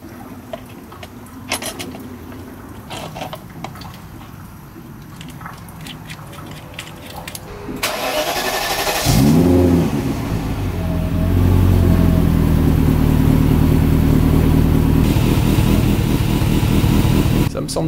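BMW 730i V8 engine cranks and catches around the midpoint, then rises into revving and a steady loud run, after a stretch of quieter background noise and clatter.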